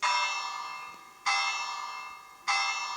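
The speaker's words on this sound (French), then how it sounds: "Oh, une petite cloche." A small church bell rings three times at an even pace, each bright, clear strike ringing out and slowly fading before the next. It is heard up close and alone.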